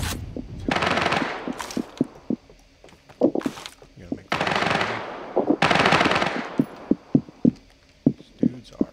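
Automatic gunfire in a shooter video game comes in loud, rapid bursts and separate sharp shots, with someone talking over the firing.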